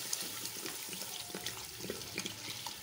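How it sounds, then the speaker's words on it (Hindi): Water pours into a pot of soaked rice for pulao, about two litres going in as a soft, continuous splashing trickle, faint and close. "हम जो है तकरीबन दो लीटर पानी डाल रहे हैं"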